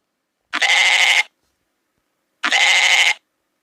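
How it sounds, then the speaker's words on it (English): A goat bleating twice, each call a loud, close, rough bleat under a second long, separated by nearly two seconds of silence. "Goat."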